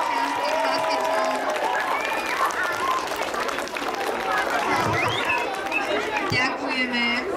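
Crowd at a village May Day maypole raising with volunteer firefighters, a continuous wash of applause and scattered cheering mixed with chatter, with people talking throughout.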